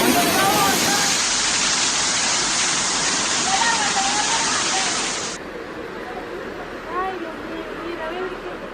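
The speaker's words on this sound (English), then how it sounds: "Flash floods occur in Venezuela due to heavy rainfall" Flash flood waters in Venezuela rush with a loud, continuous roar like a torrent, then drop abruptly to a quieter steady wash.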